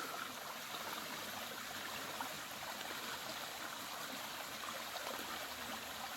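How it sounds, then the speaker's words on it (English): A steady, broad rush of a small forest waterfall hisses continuously and evenly at a moderate distance in Pisgah National Forest, North Carolina, with no other sounds breaking through. "we've made it to this nice little waterfall"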